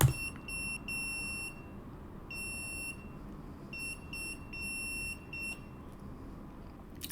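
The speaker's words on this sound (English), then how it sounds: "I always forget how much I hate buzzers until I listen to one again" Arduino buzzer beeping out a Morse code message, a high-pitched electronic tone in short and long pulses with irregular gaps, over a low background rumble.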